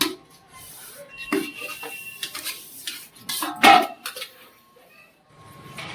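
Brass and copper utensils being rinsed with water, with scattered metallic clinks and clatters of the pots and dishes against each other, some sharp ringing knocks and a low background of handling noise.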